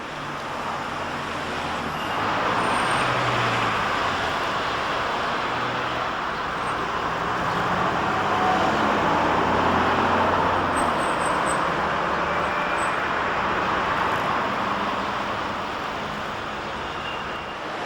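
Steady road traffic on a London street, a broad continuous rumble and hiss of passing cars, buses and trucks, swelling and easing as vehicles go by, with no voices.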